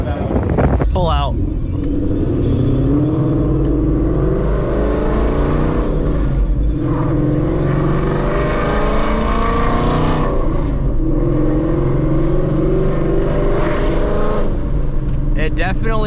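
Ford Mustang S550 with a Corsa X exhaust and Double H pipe, a loud, deep, continuous exhaust rumble with revving swells, driven beside a fence, while people talk over it throughout.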